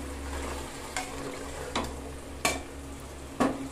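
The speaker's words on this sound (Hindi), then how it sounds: "मैं सबको अच्छी तरह से मिला के फ्राई कर रही हूँ" A spoon stirs food frying in a pan, with a soft continuous sizzle broken by four distinct scraping strokes at a fairly even pace.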